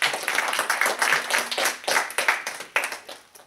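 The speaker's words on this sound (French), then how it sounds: "Sophie, on va applaudir Sophie d'abord." A small group applauds Sophie, a cluster of close, distinct hand claps with an uneven pulsing rhythm, fairly loud and without talk.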